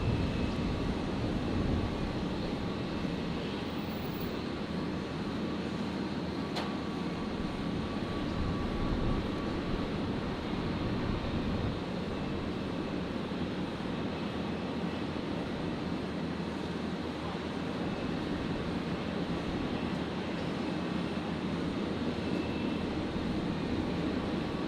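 A Boeing 737 arriving from Perth touches down on runway 01 left at Brisbane International Airport, heard as a steady, broad roar of jet engines that holds loud and even throughout.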